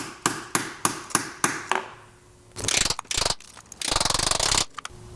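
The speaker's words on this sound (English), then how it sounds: "I'm gonna try to turn these bolts, but I don't think we're gonna have much luck here." A ratchet clicks on the valve cover bolts of a Jaguar F-Type (X152), giving a series of sharp evenly spaced clicks close by, then bursts of harsher grinding metal noise.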